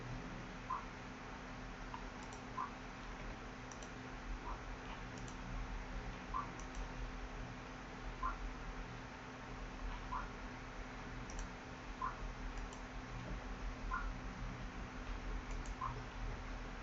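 Computer mouse clicking during network configuration on a PC: faint, sparse single clicks spaced a second or two apart over a low steady hum.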